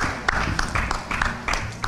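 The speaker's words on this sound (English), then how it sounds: "we need a resounding round of applause for the team" A crowd gives the championship-winning team a round of applause at a news event, with steady clapping and sharper bursts repeating across the short stretch, moderately loud and continuous.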